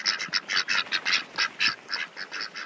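A flurry of nasal duck quacks, several birds calling over each other in rapid, overlapping bursts, close and loud with no talking.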